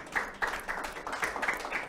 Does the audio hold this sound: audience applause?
yes